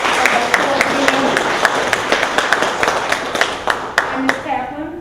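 An audience at a student support services program event gives a round of applause for an honoree, steady clapping from many hands in a hall, moderately close, with a voice speaking over the clapping.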